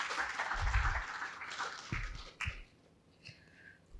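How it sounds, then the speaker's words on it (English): An audience at a wellness talk on hypnotherapy gives a brief round of applause that fades out within a couple of seconds, leaving a few faint bumps and a quiet room. "with a huge round of applause,"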